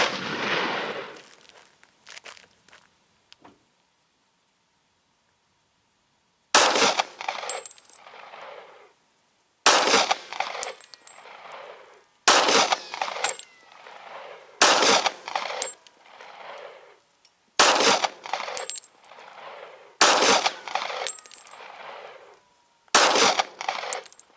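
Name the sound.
Smith & Wesson M&P 45 M2.0 pistol firing 230 grain ball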